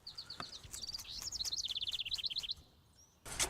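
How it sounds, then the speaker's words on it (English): Small birds chirping outdoors on a farm paddock, a quick run of bright repeated tweets rising into a rapid trill, then a brief pause before a burst of rustling, close and clear with no talking. "I can hear birds chirping in the background"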